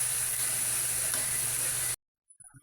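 Jackfruit, tomato, onion and garlic sauté in a hot pan with a loud, steady sizzle that cuts off abruptly, then a few faint clinks follow in near silence.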